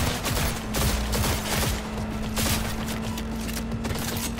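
Gunfire from a tech weapon in the Cyberpunk 2077 video game, a dense run of rapid shots fired nearly back to back over a steady low hum, loud and continuous throughout with no talking.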